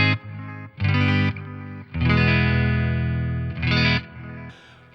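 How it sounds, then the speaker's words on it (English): An electric guitar runs through an MXR Carbon Copy analog delay pedal on a small Pedaltrain Nano+ board, with sustained distorted chords and repeating echo tails, loud and close with brief gaps between phrases. "And lastly, the MXR carbon copy delay."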